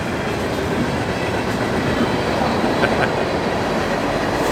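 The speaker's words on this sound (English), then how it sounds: "There's a train going by right now, freight train." A freight train rumbles past steadily with a constant broad roar and faint rail clatter, loud and close, with no talking.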